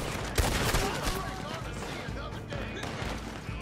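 Automatic Maxim machine gun fire in the game Blackwater, a dense stream of loud shots mixed with in-game noise and a voice talking over it throughout.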